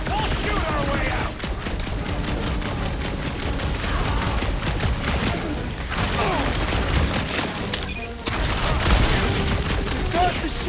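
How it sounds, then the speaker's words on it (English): Rapid, dense gunfire fills a firefight aboard a space station in Marvel's Guardians of the Galaxy on PS5, with loud bursts and booms that barely let up, briefly dropping out twice, while voices shout under the shooting. "We'll shoot our way out!"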